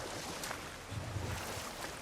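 Rushing waterfall in the video game God of War Ragnarök, a steady broadband wash of falling water heard at a distance, continuous and even throughout with no talking.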